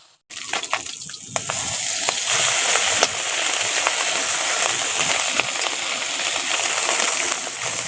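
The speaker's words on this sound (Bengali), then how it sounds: "এখন কিছুটা মাছ দিয়েছি, এগুলোকে নাড়াচাড়া করে ভালো করে ভেজে নেব।" Small chanda fish sizzle and crackle in hot oil as they are stirred in the pan, a loud continuous hiss with scattered pops and scraping clicks after a brief quiet start.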